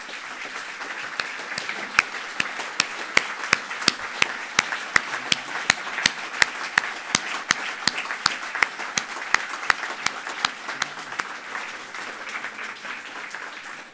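An audience at an anti-corruption conference's opening session applauds the organisation's founders: steady, moderately loud clapping with many individual sharp claps standing out, sustained for about fourteen seconds before thinning at the end.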